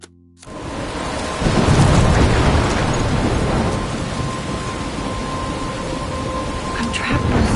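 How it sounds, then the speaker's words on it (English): Heavy rain pours steadily in the video game Life is Strange, with deep thunder rumbling loudly through the storm and swelling again near the end, no voices. "I'm trapped in a storm."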